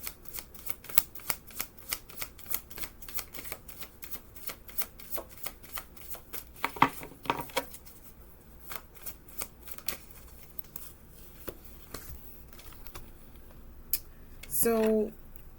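Cards from a medicine deck are shuffled in a rapid run of soft crisp riffles and taps, fairly quiet and close, continuing for most of the stretch.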